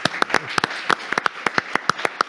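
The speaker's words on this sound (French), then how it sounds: "On peut les applaudir aussi." Audience clapping at a Nantes property event, about a dozen sharp, separate claps in an uneven rhythm, close and fairly loud, with no talk over them.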